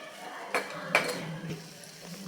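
Ground dal being sautéed and stirred in a pan over medium heat, with a couple of sharp metallic clinks of a spoon against the pan rising over a soft background hiss.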